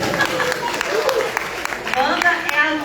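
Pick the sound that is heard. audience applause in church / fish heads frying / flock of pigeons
audience applause in church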